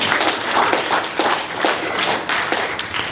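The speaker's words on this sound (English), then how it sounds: "Clap your hands if you're African." An audience at a panel event on police terrorism claps its hands in a loud, steady, slightly uneven patter that continues throughout.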